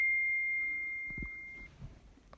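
A single steady electronic notification tone from a phone receiving a text message sounds for about a second and a half, clear and fairly quiet, followed by faint low thumps.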